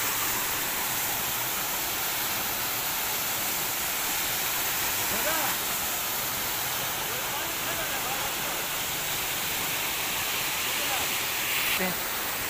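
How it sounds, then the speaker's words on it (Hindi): A waterfall in Mansehra with water pouring down from above: a loud, constant roaring rush of falling water that fills the whole scene, with a voice faintly speaking beneath it. "ये ऊपर से पानी आ रहा है ये देखिए"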